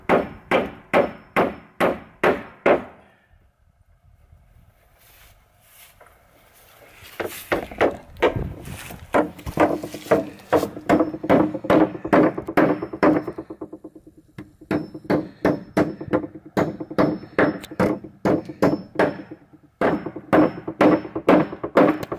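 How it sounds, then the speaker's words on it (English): Hammering at a deer camp: a long run of sharp, evenly spaced wooden-sounding strikes, loud and close, broken by a few seconds of quieter handling before the steady blows resume. "You teach yourself how to hammer or what?"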